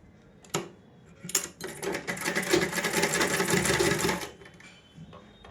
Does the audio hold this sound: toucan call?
no